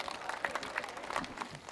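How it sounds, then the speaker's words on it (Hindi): Enthusiastic applause from the audience at a Hindi comedy poetry gathering, a steady, dense patter of many hands clapping with a few sharper bursts, sustained throughout with no talk over it. "जोरदार तालियां।"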